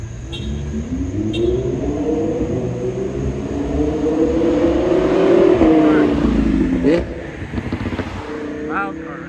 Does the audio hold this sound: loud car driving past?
yes